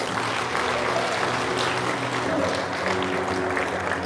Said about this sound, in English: please give a round of applause for Sergeant Joe Steen and Duenas